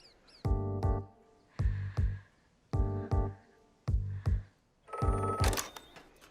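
A telephone bell rings in short double bursts, four in a row with pauses between, and then rattles into a brighter, noisier final ring, clear and close with no talking.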